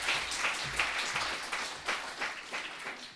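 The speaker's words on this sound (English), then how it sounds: "Please give a clap." Polite, moderately distant clapping from a conference audience at a plenary health session, a brief continuous patter of many hands with no talking over it.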